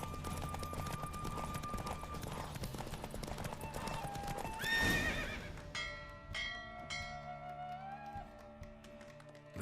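A horse gallops in a race in The Witcher 3, its hooves clip-clopping fast and steady over a busy game soundtrack, with a neigh and ringing bell-like tones toward the end.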